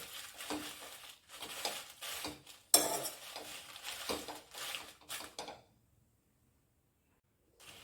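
Dry fenugreek roasts in a pan for a homemade spice masala, stirred with a spoon in bursts of scraping and light clatter against the metal, close and quiet, then it stops and falls silent near the end.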